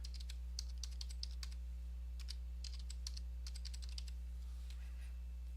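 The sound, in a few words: typing a new password on a computer keyboard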